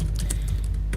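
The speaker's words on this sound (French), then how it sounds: "désolé pour les bruits de clavier" Quick bursts of typing on a computer keyboard, several sharp key clicks in an uneven rhythm, close and clear against a low background hum.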